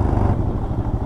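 Yamaha XT 600 motorcycle engine while riding, a loud close continuous thumping rumble with no voices.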